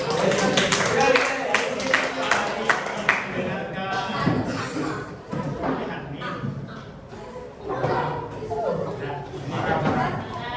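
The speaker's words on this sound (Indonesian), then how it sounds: "Oke, tepuk tangan buat Aul." Students in a classroom clap together in a quick rhythmic burst of sharp claps at the start, which then fades into chatter and talking voices close by.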